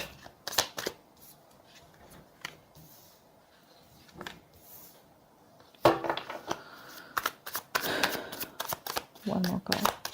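Tarot cards riffle and snap as a deck is shuffled by hand during a reading, quick papery bursts coming in scattered clusters that grow busier toward the end, with a voice talking over them.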